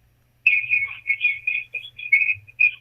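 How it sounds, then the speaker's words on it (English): A person whistles a wavering, high tune in short connected phrases, fairly clear against an otherwise quiet, faintly humming background. "your background whistling"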